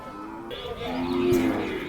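A Khillar cow moos in a long, low call over a busy outdoor cattle market background, fairly close.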